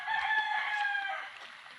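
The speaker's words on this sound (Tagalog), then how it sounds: "Yan, mga manok ko." Rooster crowing with a long drawn-out call near a farmyard, chickens around, a single loud crow that trails off gradually with no talking over it.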